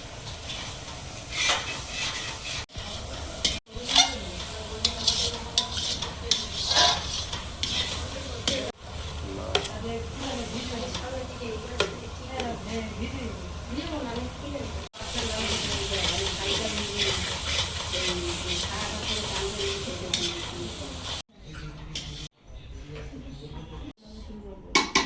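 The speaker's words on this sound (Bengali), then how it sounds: "এবার ভাজা মশলাটা দিয়ে আর একটু নেড়ে চেড়ে নামিয়ে নেব।" Taro greens cooked with prawns being stirred in a pan as fried spices go in, with a steady hiss and scraping of a spoon on metal throughout, then a few sharp clinks near the end.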